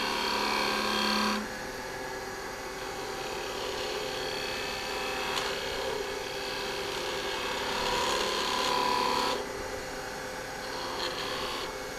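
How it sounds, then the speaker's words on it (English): A detail gouge cuts into a spinning wooden inside-out ornament on a lathe, giving a steady scraping rasp over the constant motor hum with a few brief louder passes. "My detail gouge and get just a little more detail."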